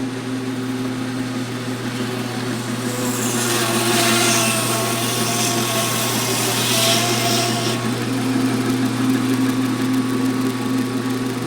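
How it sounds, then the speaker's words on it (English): A meat bandsaw runs with a steady motor hum, then rasps through pork for several seconds with a harsh grinding whine before returning to its even drone, close and loud, no speech. "You've got to have a meat saw, bandsaw like this."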